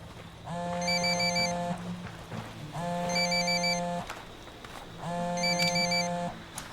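A phone rings three times in a Ghost Recon Wildlands game scene, each a trilling electronic ring with a steady tone beneath, separated by short gaps over faint background ambience.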